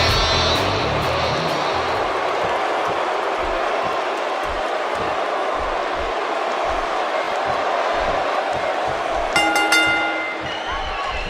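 An arena crowd roars in a wrestling video game, a loud, steady wall of cheering that carries over a low, regular thumping beat and swells slightly toward the end.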